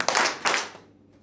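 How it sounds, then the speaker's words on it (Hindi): A group of about 30 people clapping together indoors, two near-unison claps a split second apart, each sharp and loud and then trailing off into a short ringing decay. "30 लोग जब एक साथ ताली बजाएं तो ऐसा लगना चाहिए कि एक आदमी ताली बजा रहा है"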